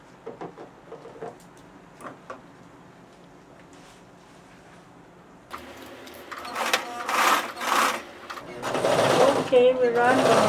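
A sewing machine stitching the center back and center front seams of fabric, starting softly under a quiet voice and then whirring up into a louder, steady mechanical buzz with a rhythmic rattle, close by.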